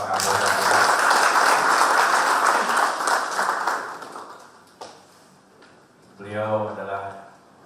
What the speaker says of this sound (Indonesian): Dr. Andes Imam Sugianto, MSI, tepuk tangan untuk Bapak Kapolda.